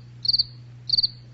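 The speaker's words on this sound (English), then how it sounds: "Crickets." A cricket gives two short trilled chirps a little over half a second apart, clear and close against a quiet background with a low steady hum beneath.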